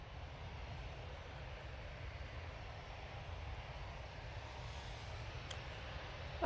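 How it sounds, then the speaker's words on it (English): A propeller aircraft taxis closer across the apron, heard as a faint, steady low engine drone with a constant hum and no voices. "That prop is making its way towards us."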